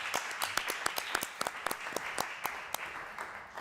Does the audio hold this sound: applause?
yes